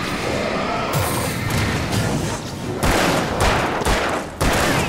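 Gunfire in the video game Alan Wake, with a rapid burst of loud shots and sharp cracks at irregular intervals, some close together, over a dense, booming game soundscape.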